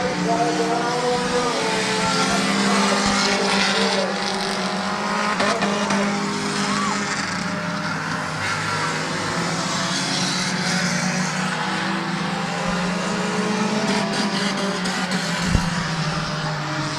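Stock cars roaring around the Midvale Speedway oval at the finish of a race, a dense, sustained engine drone with pack noise rising and falling, carried loud and steady throughout under crowd ambience.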